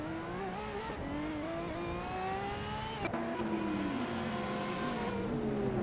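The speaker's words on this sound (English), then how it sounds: "Let's sit back and enjoy the racing cars driven by AI in the racing simulator." AI-driven supercars race in a simulator game at Long Beach, engines revving and shifting loudly and continuously, with rising and falling pitch as cars accelerate and pass, plus faint tire squeal.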